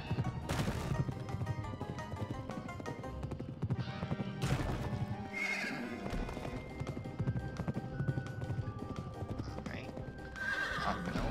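In the video game Pumpkin Jack, a horse neighs and whinnies repeatedly over rapid galloping hoof clip-clops, with game music and effects layered around it and a voice talking at times.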